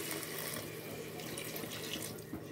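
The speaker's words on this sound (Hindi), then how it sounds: "मैं इसे पानी डालूँगी" Water streams steadily into a cooking pot of fried masala and potatoes, a continuous close splashing pour with no pauses and no voice.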